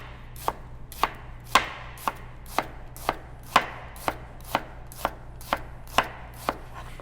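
A knife chopping an onion on a board, about fourteen crisp, evenly spaced cuts at a steady slow rhythm, close and clear with no talking.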